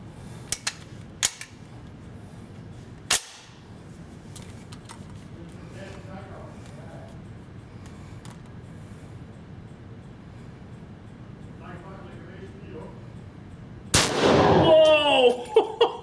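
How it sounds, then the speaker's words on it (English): Several sharp SVT-40 World War II rifle shots ring out outdoors, spaced irregularly in the first few seconds, followed by quieter stretches with people talking faintly in the background. "Today I will be doing a few shots with a SVT 40. It's a World War II rifle"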